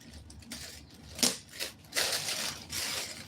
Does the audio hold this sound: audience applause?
no